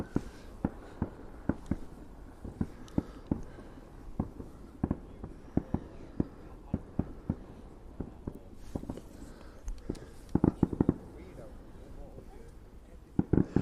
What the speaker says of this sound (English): Sounds like there's a lot of fireworks display going on behind me at Airport Inn Hotel